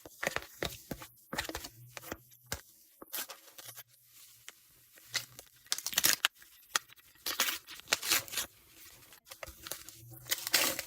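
Paper packets for DIY phone-case collections are torn open and crinkled up close in ASMR style, with repeated rips, crunches and rustles in an irregular rhythm and no talking.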